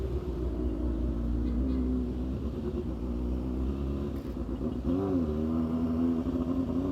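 A motorcycle engine rumbles and revs at a distance, a steady low drone with a brief rise in pitch near the end, while traffic noise fills the background.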